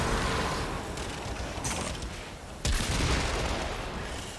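Heavy weapon fire in Warframe, a thick, continuous barrage of explosive bursts with a sharp new blast about two-thirds through, loud and sustained with no talking over it.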